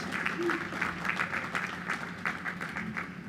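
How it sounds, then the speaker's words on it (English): An audience at a college commencement ceremony applauds veterans, a sustained wash of many clapping hands at moderate distance, with faint voices mixed in. "Please, a round of applause."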